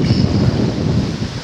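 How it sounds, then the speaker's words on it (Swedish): Wind gusts blowing steadily outdoors in Arvika after a storm that brought down trees and crushed a car, a continuous rumbling buffet close on the microphone with no speech. "Det blåser lite här, sånt ser det ut."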